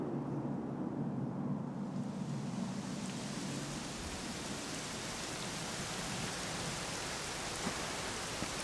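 Steady rain pours down in the video game Dragon Quest XI on PlayStation 5 Pro, a dense even hiss with soft patter throughout and a faint low rumble early on; no voices.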